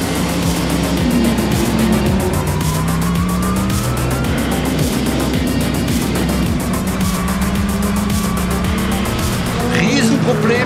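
Race cars pulling away at the start of a VLN endurance race, a dense roar of engines with rising pitch sweeps as cars accelerate past, loud and continuous, with a commentator talking over it.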